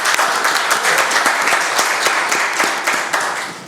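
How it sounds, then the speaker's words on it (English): An audience at a panel discussion on gamified prop trading claps for a guest, a loud, continuous patter of many hands with distinct individual claps sharp against the wash, sustained evenly for several seconds. "So also a big applause for him."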